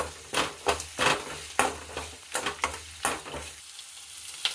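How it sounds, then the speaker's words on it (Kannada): Fresh grated ginger sizzling in a hot frying pan, a soft frying hiss broken by regular stirring scrapes, about a dozen rhythmic strokes, fairly close and quiet. "ಈಗ ಶುಂಠಿ ಹಾಕ್ತಾ ಇದ್ದೀನಿ"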